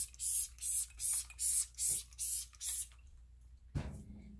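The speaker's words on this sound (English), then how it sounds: "spray, spray, spray" Seven quick hissing bursts of Norwex cleaner sprayed onto a window, evenly spaced and close, followed by a brief bump and rustle.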